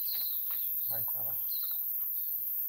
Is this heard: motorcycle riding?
no